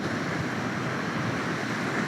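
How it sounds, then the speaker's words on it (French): Ocean waves wash in a continuous, even surf roar, dense and steady throughout with no breaks or voices, moderately loud. "juste écouter et remarquer bien le mouvement des vagues"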